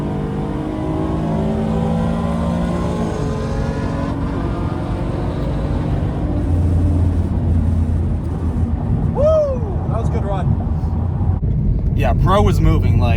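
A procharged 2014 Mustang with a 3.7L V6 launches at a drag race, its engine a loud, continuous roar that builds through the run with rising pitch sweeps from shifting and supercharger whine.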